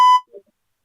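A single short electronic beep from a newly found button, sharp and clear, followed by a faint low blip and then silence.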